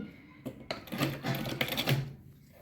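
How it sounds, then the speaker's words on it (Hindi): Sewing machine stitching the front part of a blouse, a short burst of rapid mechanical clatter and needle ticking, close and fairly loud, running briefly before stopping. "और एक बाजू से भी सिलाई कर लो।"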